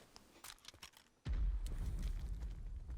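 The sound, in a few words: explosions in the distance in a video game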